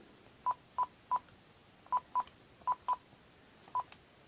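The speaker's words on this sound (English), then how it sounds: "I'm now going to call this phone." Telephone touch-tone dialing beeps sound while calling a vintage phone: eight short, evenly pitched tones in clusters of three, two, two and one, fairly faint over a quiet background, with no talking.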